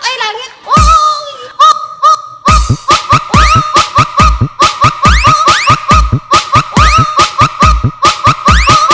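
Loud, harsh duck quacks repeat in a quick rhythmic series over thumping low beats in a budots dance remix.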